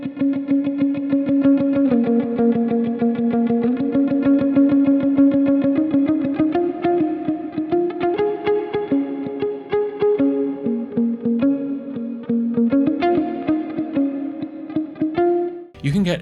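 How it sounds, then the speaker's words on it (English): Palm-muted clean electric guitar through the Archetype: Plini plugin plays a flowing, girthy yet spacious pattern of muted plucked notes with chorus-like shimmer and reverb, continuous and alone, ending with a brief pick scrape. "doing some light palm muting can give you this really girthy but spacious sound"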